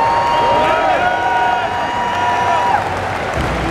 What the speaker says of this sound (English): Can we get a round of applause for the lead referee, Mr. Magnus Vermagnusson?